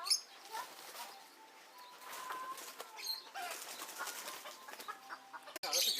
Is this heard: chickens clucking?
yes